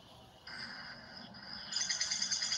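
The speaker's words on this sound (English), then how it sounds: "Did you hear that bird? It's a downy woodpecker." A downy woodpecker calls in winter woodland in Alberta, a faint high bird call repeated in short sustained bursts with no talking.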